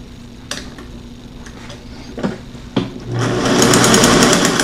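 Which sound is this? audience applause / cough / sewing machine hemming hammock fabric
sewing machine hemming hammock fabric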